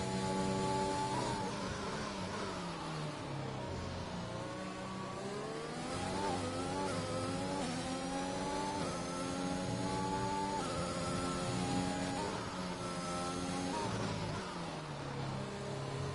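Race cars at Portimao accelerate as the race resumes, engines revving in rising and falling pitch sweeps, with several cars overlapping in a steady, moderately loud roar.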